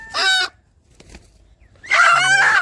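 A gavran country rooster crows twice, close and loud, with a short quiet gap between the two calls and no talk.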